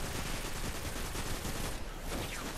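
Rapid gunfire in Destiny aimed at gates, a dense continuous burst of shots filling the whole moment, loud and close with no pause.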